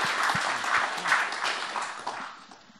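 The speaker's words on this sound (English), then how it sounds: "could we give our panel a round of applause?" Audience applause for a panel at an evening talk on London squats and counterculture, a dense burst of many hands clapping that holds steady and then starts to fade toward the end.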